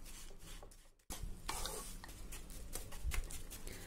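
Ground gond powder being stirred into a besan laddu mixture, soft scraping and rubbing of a spoon through the dry mix in a pan, quiet and close, continuous after a short pause.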